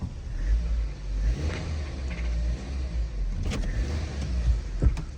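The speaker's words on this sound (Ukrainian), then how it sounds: "Там є якийсь шум, шум в моторі якийсь я казав." A 1.4-litre turbocharged petrol engine in a Renault Scenic 3 running at close range, with a steady low rumble and some uneven mechanical noise from an engine fault and faint rattles mixed in.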